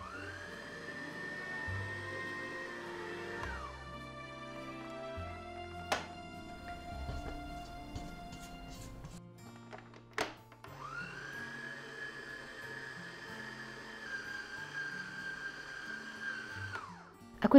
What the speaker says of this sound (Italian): mettiamolo nella planetaria. Chiudiamo e iniziamo ad impastare per qualche secondo.